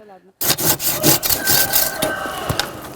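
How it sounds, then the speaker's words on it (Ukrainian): A hand saw cuts through a thick fruit tree branch, with rough rasping strokes at an uneven rhythm, loud and close, starting after a short moment of quiet. "Серед його інструментів є спеціальна пилка, якою чоловік зрізає товстіші гілки."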